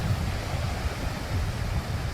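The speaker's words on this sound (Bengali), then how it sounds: "ঢেউয়ের আওয়াজ, গর্জনটা একটু শুনুন" Surf at Shankarpur beach, a steady roaring wash of sea waves with a continuous low rumble and some wind, loud and constant throughout with no speech.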